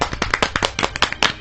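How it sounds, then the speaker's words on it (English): Canned applause sound effect on a talk show, a handful of sharp, distinct claps in a quick, uneven patter, close and fairly loud, lasting just over a second. "Oh, fake applause."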